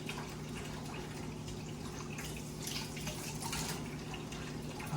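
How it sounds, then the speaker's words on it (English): Tap water runs steadily over an eggplant being washed in a home kitchen, a constant close splashing wash with no talk. "First I'm washing out the eggplant, and then I'll do the few tomatoes that I picked."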